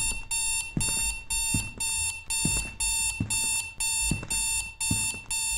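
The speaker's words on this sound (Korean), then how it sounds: "저게 사람 감지되면 울리는 알람이라고요?" A motion-detector alarm rings in the horror game Strange Nights, loud repeated electronic bursts in a steady rhythm of about a dozen pulses, each with a thumping low hit, sounding alone with no talk.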